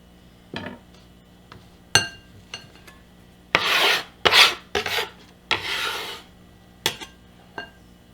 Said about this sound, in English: I'm just gonna clean my knife off in there